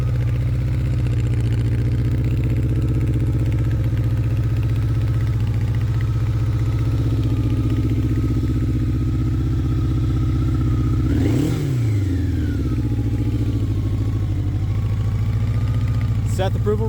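A Honda Nighthawk 700S motorcycle with an aftermarket 4-into-1 exhaust and a major oil leak idles with a deep, steady burble close by, then gets one quick throttle blip midway before settling back to idle.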